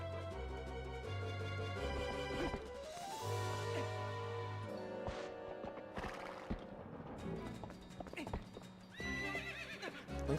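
A horse in Twilight Princess HD gallops with steady clip-clop hoofbeats and lets out whinnying neighs over layered game music and effects, with a voice talking now and then.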